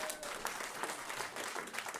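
Brief round of audience applause at an anniversary celebration panel, dense even clapping from a room of people, fairly soft and steady.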